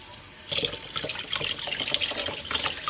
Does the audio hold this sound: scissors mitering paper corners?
no